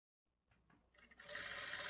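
A sewing machine stitches a women's straight-cut pant, starting from near silence with a few faint ticks, then rising into a steady, fast whirring run.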